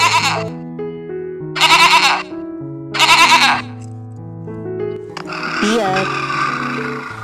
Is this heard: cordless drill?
no